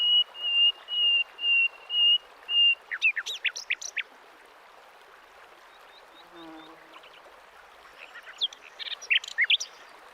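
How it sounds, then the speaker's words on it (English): Nightingale hidden among branches by a clear creek, a series of loud repeated whistled notes followed by rapid varied trills, then a pause with soft water and a faint low call before another burst of song. "Concealed between the branches, a nightingale."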